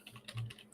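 Quiet typing on a computer keyboard, a short burst of several soft, uneven key clicks, close and alone.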